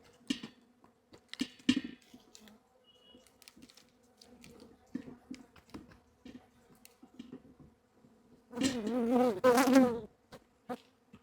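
Stingless bees from an opened honey colony buzz in short scattered bursts, swelling into a dense, close humming swarm near the end.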